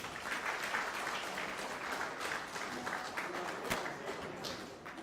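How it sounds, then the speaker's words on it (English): An audience at an alumni dinner applauds with loud, sustained clapping that fills the room evenly for several seconds before easing off slightly at the end. "very, very, very big hand clap"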